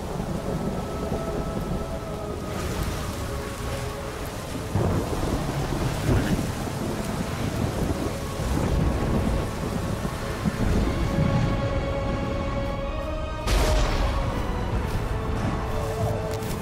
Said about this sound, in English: Separated by the storm